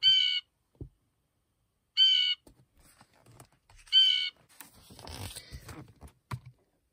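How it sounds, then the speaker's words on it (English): Three harsh, nasal bird calls spaced evenly about two seconds apart, followed by rustling and soft scuffing noises nearby. "The blue jay."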